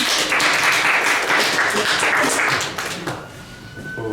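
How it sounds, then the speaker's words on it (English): An audience at an online open show and tell event claps steadily for about three seconds, a dense wash of applause that thins and fades out at the end. "Another round of applause."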